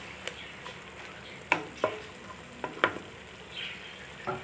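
Chicken shashlik cooking in a pan, heard as a soft background sizzle broken by a few sharp clicks and scrapes of stirring, with no one talking.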